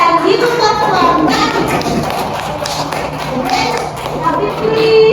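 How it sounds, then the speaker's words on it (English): Classmates clap for a student after a narrative-text storytelling turn in a classroom, a dense patter of hands filling several seconds at close range, with some shuffling and tapping mixed in. "Give applause for"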